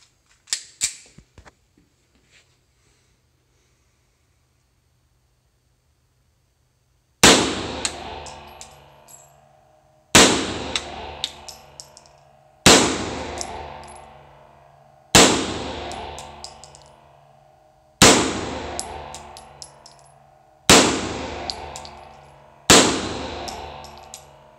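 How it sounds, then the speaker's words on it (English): A Beretta M9 pistol fires at a shooting range: after a few faint clicks and a long quiet stretch, seven sharp, loud shots ring out at steady intervals of roughly two to three seconds, each followed by a short decaying echo. "And last but not least is the Beretta M9. I haven't shot it in a while, but I always feel really confident shooting this gun."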